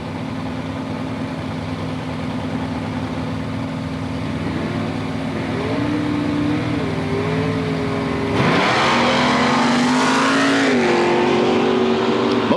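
Race car engines idle and rev loudly at the 1984 Mountain Motor Nationals time trials, Budds Creek, Maryland, then surge louder as they launch, with rising and falling engine pitch.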